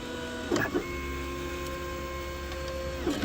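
A 3D printer prints a part designed in Fusion 360, its stepper motors giving a steady, sustained whine, with a few brief clicks near the start and end.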